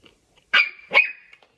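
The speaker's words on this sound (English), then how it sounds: "What are you barking for, man?" A dog barks twice, close and loud, the second bark trailing into a short whine, with quiet gaps around it.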